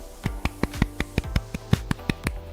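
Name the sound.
golf clap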